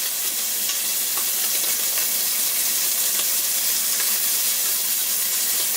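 Scallops and shrimp searing in a hot pan, a steady, loud, close sizzle with constant crackling and spitting throughout, and no voices.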